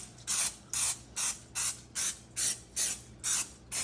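A can of cooking grease sprays onto a springform pan in eight short, even hissing bursts at a quick steady rhythm, close up and alone.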